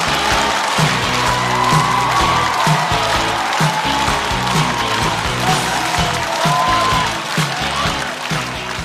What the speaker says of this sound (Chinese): 掌声欢迎广智